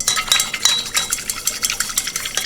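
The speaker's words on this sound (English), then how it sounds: "We're just going to dissolve the cornstarch in the liquid." Spoon stirring cornstarch into cold liquid in a small bowl, a quick run of light clinks and scrapes against the sides, close and steady with no talking.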